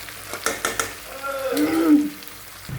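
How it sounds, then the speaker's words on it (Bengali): Spices cooked down in oil for a taro and yogurt curry fry and are stirred, giving a few quick scraping strokes over a soft sizzle, then a brief tonal whine. "প্রচুর মশলা একসঙ্গে ভালো করে কষানো হয়ে গেছে সাইড থেকে তেলও ছেড়ে দিয়েছে"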